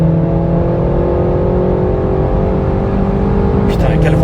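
Renault Mégane RS engine revving hard under acceleration, a steady loud drone close by throughout, with a voice briefly audible near the end.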